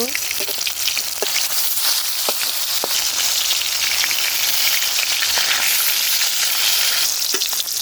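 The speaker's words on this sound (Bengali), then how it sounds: "মাছ ভাজি উল্টে নিব।" Rui fish, freshly flipped, fries in hot oil in a wok with a loud, continuous sizzling hiss, close up and even throughout, flecked with small pops and crackles.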